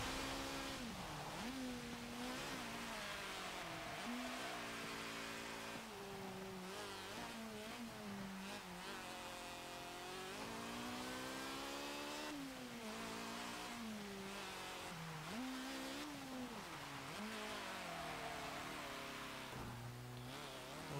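A 1970 Citroën 2CV engine in Forza Motorsport 7 revs hard and drops back with each gear change, a loud, continuous buzzing drone that climbs and falls repeatedly with no voice over it.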